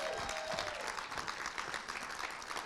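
Audience applause for a woman performer after her stage turn at a Tribe Night event, a dense, steady clapping that stays loud through the whole stretch with a faint tone fading early on.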